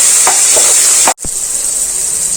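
Tomatoes and onions sautéing in a pressure cooker for chicken biryani, a steady loud sizzle with a few stirring scrapes, broken by a brief silent gap before the frying hiss resumes.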